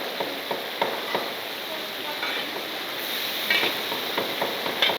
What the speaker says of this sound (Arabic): قطعوا اللحمة قطع كبيرة وحطوا زيت دوار الشمس، وحطوا فوقها كمان البصل، وعم يقلوا اللحمة مع الزيت